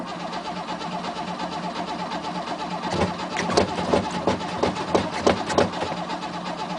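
An old 1967 Mercedes engine with a sticky choke cranks on a cold start and catches into rough, uneven firing bursts, following a short spoken remark over steady background noise.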